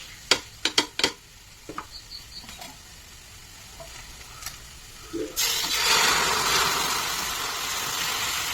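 Ghee goes into a hot pan: a few sharp clicks and taps of utensils come first, then a loud, sudden burst of sizzling that settles into a steady, close hiss.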